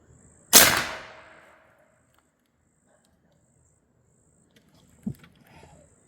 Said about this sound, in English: All right, fourth shot.